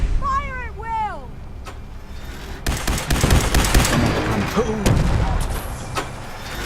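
Gunfire bursts out during a fight against Gulpers in the foggy shore setting of Fallout 4 Far Harbor: rapid loud shots and impacts fill the latter half, following an earlier stretch of creature calls, with shouted voices over the action.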